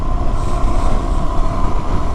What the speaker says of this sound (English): Actually got pretty windy today.